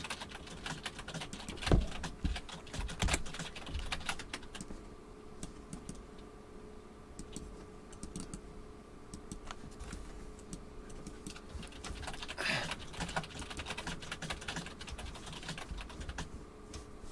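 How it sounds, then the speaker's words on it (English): Keys clatter on a computer keyboard in steady, uneven bursts of tapping, fairly close and continuous from start to finish, with no talking. "Can y'all hear Sebastian typing away?"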